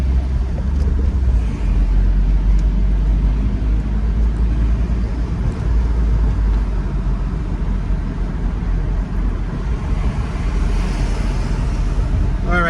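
Car driving through downtown Washington DC past the Smithsonian National Air and Space Museum, with a steady low engine and road rumble filling the whole stretch at close range.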